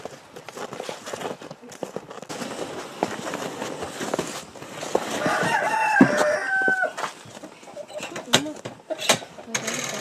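Chickens cluck and squawk close by amid rustling and handling noises, with a few sharper cries standing out partway through.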